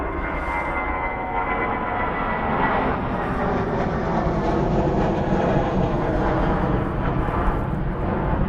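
An aircraft takes off at Christchurch airport, its engines roaring loud and steady throughout as it powers down the runway.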